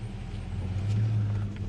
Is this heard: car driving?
yes